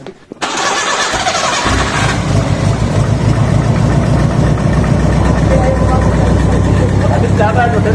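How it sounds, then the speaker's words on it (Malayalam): A modified Maruti Gypsy 4x4 fires up from a cold start after a short silence, then idles loudly and steadily close by, a dense rumbling throb holding for several seconds. "അപ്പം നമ്മുടെ ഒത്തിരി ശ്രമത്തിന് ശേഷം വണ്ടി സ്റ്റാർട്ടായിട്ടുണ്ട്"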